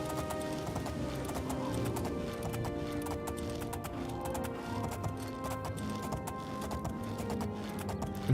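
Horse hooves clip-clop steadily at a walking pace in the video game The Elder Scrolls IV: Oblivion, a continuous close rhythm over layered game music, heading uphill toward mountains.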